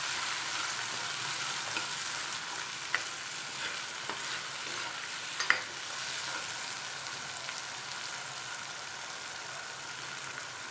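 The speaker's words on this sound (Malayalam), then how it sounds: "2-3 പച്ചമുളക് കീറിയത്, കുറച്ച് ഉള്ളി, ചുമന്ന ഉള്ളി, കൊച്ചുള്ളി, അത് ഇട്ട് നമുക്ക് വഴറ്റിയെടുക്കാം." Ginger, garlic, slit green chillies and small red onions frying gently in a pan make a soft, even sizzle with a few faint clicks of stirring, quiet and without speech.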